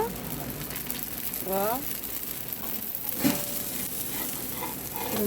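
Masala dosa batter fries with oil on a hot non-stick pan, making a steady, close crackling sizzle like light rain, with someone speaking over it.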